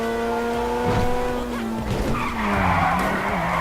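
Car tires screech in a sustained skid in Grand Theft Auto V on PS3 over a droning engine tone, loud and continuous, with the pitch wavering as the car slides.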